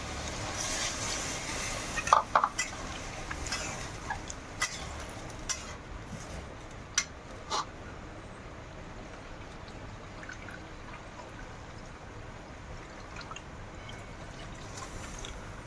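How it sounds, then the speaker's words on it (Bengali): Water poured into a pan of cooking chickpea masala curry, a soft steady trickling wash with a few brief splashy clinks near the start, close and fairly quiet. "এবার এর ভিতরে আমি জল ঢেলে দেবো।"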